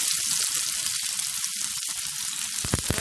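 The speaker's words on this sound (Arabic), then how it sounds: "هحط كده حبة زيت، تمام. هننزل بقى كده بالبصلة" Onion sizzling in hot oil in a pan while cooking chicken for a chicken pasta tagine, a steady close frying hiss throughout, with a few louder crackling bursts near the end.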